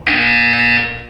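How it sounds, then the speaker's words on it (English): A loud, steady electronic buzzer from the video game Portal 2 sounds alone for about a second, a harsh tonal drone that holds evenly and then cuts off. "When you hear the buzzer, look down at the floor."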